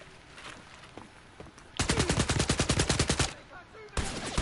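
Rapid automatic gunfire in the PS4 video game Wolfenstein Youngblood: a loud sustained burst of about a dozen evenly spaced shots, then a short pause and another burst beginning, over quieter game ambience.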